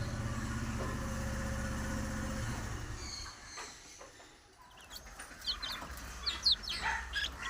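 Native country chickens, month-old chicks and hens offered for sale, cluck and chirp close by, with an idling engine rumbling underneath during the first few seconds and sharper bird calls rising near the end.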